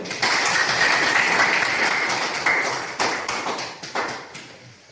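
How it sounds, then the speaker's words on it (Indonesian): A classroom of students claps for a classmate about to present group discussion results, a dense burst of applause that thins into scattered, fading claps toward the end. "Kita tepuk tangan dulu."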